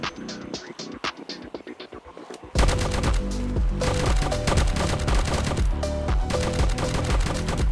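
Rapid automatic gunfire mowing down zombies in Project Zomboid, sparse shots at first, then a loud dense sustained barrage with overlapping bursts and clattering game effects.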